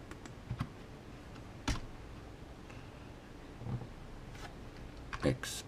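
A handful of scattered computer keyboard keystrokes while entering values in SketchUp, crisp isolated clicks spaced by quiet gaps, close and fairly soft.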